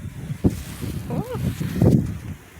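Strong gusting wind in a snowstorm in Worcester, Massachusetts, roaring and buffeting the microphone in loud low rumbles, with a person exclaiming briefly over it.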